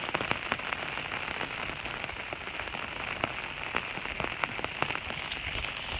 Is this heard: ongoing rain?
yes